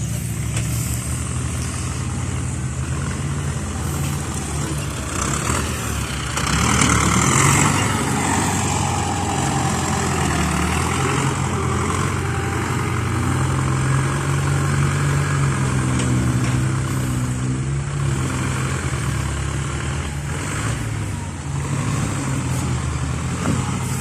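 A Ford 6610 farm tractor's diesel engine runs loud and steady close by, with a few swells where the revs rise. It keeps a rough, continuous rumble throughout.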